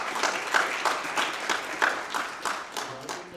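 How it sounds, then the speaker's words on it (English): An audience at a mayoral primary debate gives a short round of moderate applause, rippling and somewhat distant, lasting a few seconds. "And that deserves a hand of applause for her."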